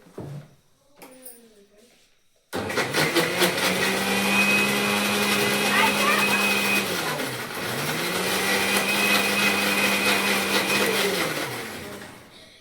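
An electric juicer-blender making juice starts abruptly after a brief voice, then whirs loudly and steadily in two long runs, its motor pitch dipping and rising between them before it winds down.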